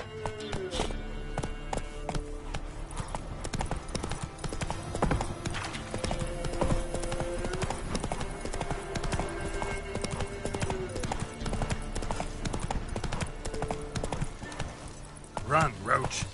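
Roach, the horse in The Witcher 3, gallops with a steady rhythmic clip-clop of hooves, joined by a brief whinny and game music, while voices talk over it.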